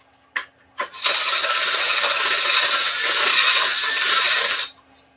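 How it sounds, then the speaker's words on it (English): A power tool reams a hole in a pistol handle, whining in two short bursts before running steadily at a loud, close, gritty pitch for several seconds and then stopping. "Oh, I have to ream this one out of it too."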